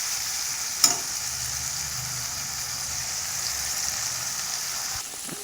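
Onion, chilli, ginger and garlic paste frying for a fish curry gives a loud, continuous hiss with one sharp clink early on, and no voices.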